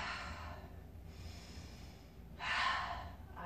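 A deep yoga breath, taken with hands at the chest and eyes closed, comes as soft airy inhales and exhales: two broad hissing swells, the second louder and nearer, over a quiet room hum with no talking.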